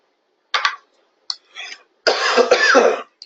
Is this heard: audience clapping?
no